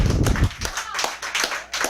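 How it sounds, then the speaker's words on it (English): A small audience claps for the trainers at an Ambit Energy training event, a few loose, uneven claps and taps close by rather than a full ovation. "So big round of applause for our trainers."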